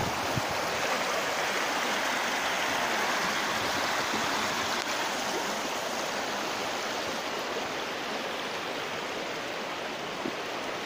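Steady broadband rush of the Indus River flowing at Jinnah Barrage near Mianwali, loud and continuous throughout, like a fast river or cascade close by, with no voices.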